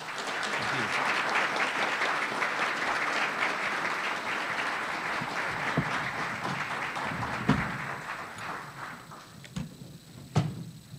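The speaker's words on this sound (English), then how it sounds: "I'd love to give a big round of applause to all of them" Audience applause at a financial forum panel session, a dense sustained clapping that fills the room for the whole span, loud and steady with a few sharper claps near the end.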